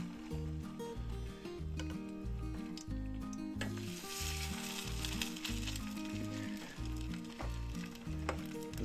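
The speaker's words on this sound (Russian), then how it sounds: "Добавляем маслице и жарим наш котлет." Fish cutlets made with canned fish fry in hot oil in a pan, giving a steady close sizzle that runs the whole time beneath rhythmic background music.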